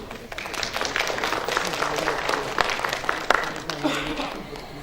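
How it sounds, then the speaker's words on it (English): A crowd applauds at a translation festival's inaugural ceremony in Dhaka, a dense wash of clapping that swells and fades over a few seconds with no voices standing out. "A big round of applause, please."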